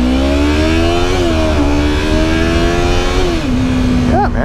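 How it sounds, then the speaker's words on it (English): A 2015 Yamaha R3 300 cc motorcycle engine revs steadily while riding, its buzzy tone climbing and shifting with a few gear changes, loud and close over constant wind rush. "It loves to rev."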